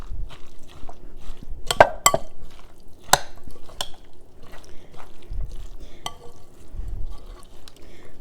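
A utensil mixes a liquid mixture in a bowl for a rotisserie chicken sandwich, making close, irregular clinks and scrapes with soft sloshing between strokes.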